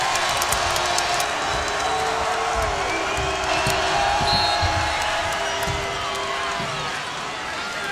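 A frenzied crowd at a women's college basketball game, Oregon State vs Oregon in Corvallis: roaring arena noise and cheering throughout, with sneaker squeaks and a commentator talking over it.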